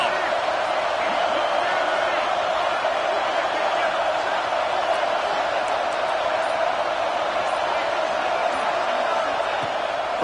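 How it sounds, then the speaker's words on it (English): Stadium crowd roaring behind the defense on third down at a college football game, a loud, continuous wall of cheering and noise with no breaks. "Decibels rising as the crowd gets behind this defense on 3rd down."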